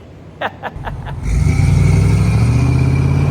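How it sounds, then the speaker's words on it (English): A pickup truck engine on a 1979 GMC C30 gives a few short cranking bursts, then catches and holds a loud, rough, low rumble close by; no talking. "Give y'all one last taste on that engine for good measure."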